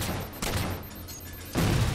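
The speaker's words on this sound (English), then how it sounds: "Who was shooting me?" Rapid gunfire bursts crackle in a Halo 4 big team multiplayer match, a short dense fusillade that swells louder toward the end with no speech over it.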